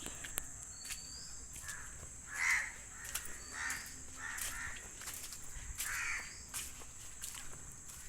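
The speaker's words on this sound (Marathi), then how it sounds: "पक्षी." Crows caw a few times at mid distance over a steady insect drone outdoors in a rainy-season coconut grove, the calls spaced irregularly across a quiet background.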